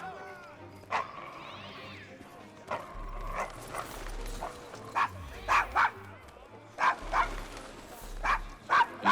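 A dog barks repeatedly in Assassin's Creed Syndicate, set in London's Devil's Acre slum: several sharp, mid-loud yips and bow-wows in irregular bursts over a low rumbling background, with game voices in places.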